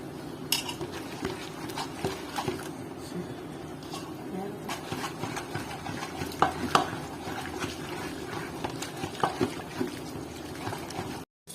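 Cooked ridge gourd is mashed with a wooden churner in a pot, making repeated knocking, squelching and scraping sounds while a voice speaks at times.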